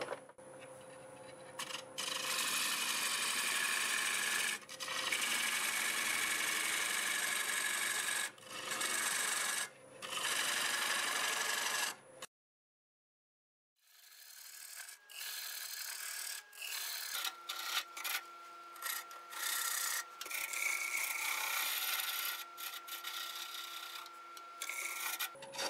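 A half-inch gouge cleans up the inside wall of a wood turning on a lathe, producing a continuous rasping, scraping cut. Brief lifts of the tool break it up, and it stops for a second midway before cutting resumes just as loud.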